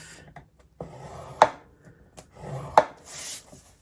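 Card stock being scored along score lines for a pop-up card, a few sharp dry scraping strokes with quiet rubbing between them, close and isolated.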